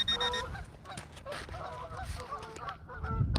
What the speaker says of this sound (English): My geese friends are accumulating.